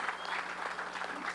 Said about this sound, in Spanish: un aplauso para los ganaderos, los agrícolas y por supuesto los pesqueros